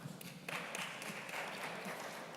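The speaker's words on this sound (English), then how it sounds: "All the bankers in the room clap." Audience applause at a health-focused digital assets investment conference, a dense, steady wash of clapping from a room of people that swells after a brief start and holds through the clip, moderately distant.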